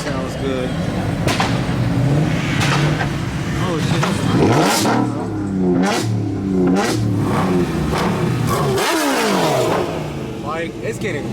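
Cars revving at night on a Gatlinburg street, repeated throaty engine surges and sweeping pass-bys near and loud, with people talking over the noise.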